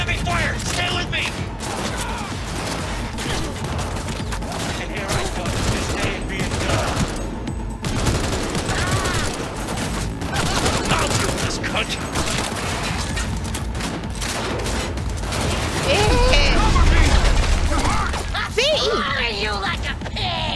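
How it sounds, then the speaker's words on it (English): Dense, continuous gunfire from a firefight in the video game Cyberpunk 2077, with rapid bursts, impacts and crashes layered throughout and a heavier boom near the end. "Under heavy fire!"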